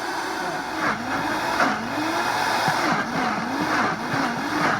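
A Vitamix blender churns thick avocado chocolate ice cream, its motor whining with a wavering, bogging pitch as the dense mixture resists, loud and continuous with a grinding roar beneath.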